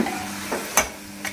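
Food roasting in oil in a pan, a close, steady sizzle with a few brief scrapes of stirring over about a second and a half.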